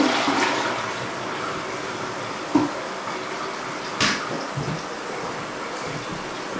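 A toilet flushes in a newly built small bathroom of a tiny woodland homestead, one long close rushing wash of water with a couple of faint knocks as the tank refills.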